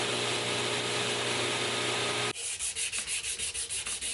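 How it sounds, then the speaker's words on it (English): Hand sanding a stock-removal survival camp knife blade with 200 grit sandpaper, heard as a rapid rhythmic rasping of back-and-forth strokes after a dense, loud grinding-like noise in the first half. "I start with a 200 grit hand sand and I go up to a 500 grit on this"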